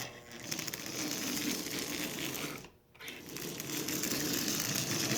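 A Marx 400 toy train locomotive's motor runs with a steady mechanical whir and gear buzz, briefly dropping out for a moment before resuming at the same close, even level.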